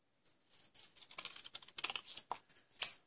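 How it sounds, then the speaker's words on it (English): Scissors snip through small pieces of cardstock for a stamped birthday card, a quiet close sequence of short crisp cutting and rustling sounds ending in one sharper snip, with no talking. "Now what I'm going to do is just going to cut these cleanly in half."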